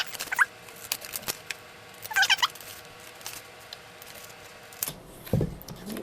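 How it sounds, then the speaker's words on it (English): Paper scissors snip through a paper sewing pattern in a few short, scattered cuts, close and fairly quiet, with light rustling of paper between snips. "we're going to take and cut out our pattern. So use paper scissors, not fabric scissors."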